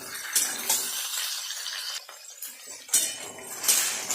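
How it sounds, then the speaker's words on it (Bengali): Vegetables (potato, beans, kohlrabi) for navratan korma stirred and fried in a pan, with repeated metal clinks and scrapes of a spatula over a soft sizzle, close and unvoiced. "নেড়ে চেড়ে সব সবজিগুলো লাল লাল করে ভেজে নেব"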